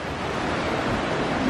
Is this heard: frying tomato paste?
no